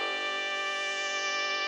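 Sustained synth accent tone shaped by an equalizer, low-passed around 4900 Hz with a saturator adding grit, holding a dense, steady harmonic chord with no speech.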